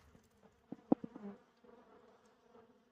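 Faint buzzing of honeybees at close range around an open feeder, with a few louder passes of wings near the listener against an otherwise quiet background.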